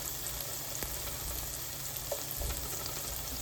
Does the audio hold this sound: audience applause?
no